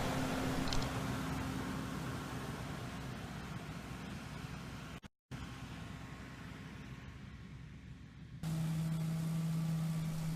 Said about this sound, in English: Then the sweeper will drive through the rows and collect the nuts,